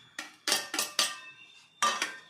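A spoon scraping and clinking against a metal pan while rava kesari with fried cashews and raisins is stirred, five bright metallic strokes in an irregular rhythm, close and clear with no talk.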